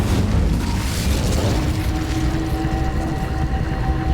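An Incendio fire spell blast in the Hogwarts Legacy video game makes a loud, sustained roaring rush of flame and rumble that holds steady without pause, with a faint tonal hum beneath.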